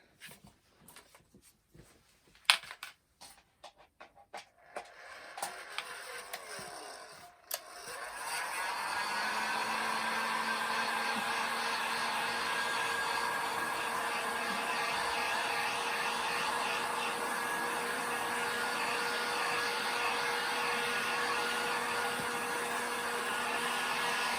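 A heat gun gives a steady, loud blowing whir with a high-pitched hum, starting after a few seconds of clatter and running on continuously without pause.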